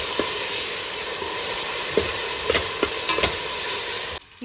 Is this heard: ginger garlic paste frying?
yes